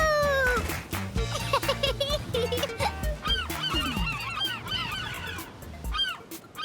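Cartoon seagulls from Bluey crying in a noisy flock, many overlapping squawks and honking calls close up over background music.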